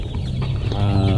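Shamo chickens cluck in a backyard pen, a short close burst of throaty clucks rising into a drawn-out call.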